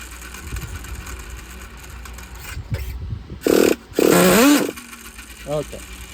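Used Traxxas Nitro Slash 3.3 RC car with a small nitro engine that runs poorly, sputtering under a low buzz, then giving two loud, harsh revving bursts close by, with a person speaking briefly.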